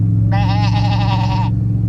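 A single sheep bleat of about a second, clear and fairly close, over a steady low engine-like hum, played back as an example while people were trying to identify a goat's call.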